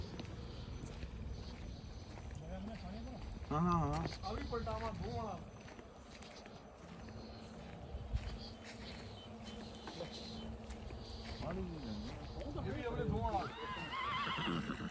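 A horse neighs loudly in a few quavering whinnies, with hoof clops and people talking in the background.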